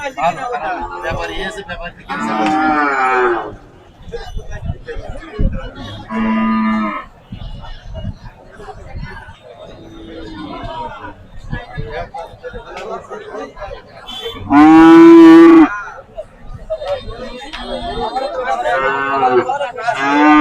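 Cattle, including calves, mooing at a busy Eid cattle market, several loud drawn-out moos close by and others farther off, over constant crowd chatter and people talking.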